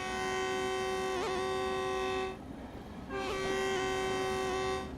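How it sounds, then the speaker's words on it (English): Two long sustained blasts of a locomotive horn in the Train Sim World 5 video game on the San Bernardino route, loud and steady with a short gap between them. "Use the horn."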